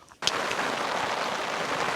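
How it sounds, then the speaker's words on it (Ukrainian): Rain starts suddenly and patters steadily on a surface, a dense hiss of drops close by, while fishing on the Dnieper river. "Дощик почався."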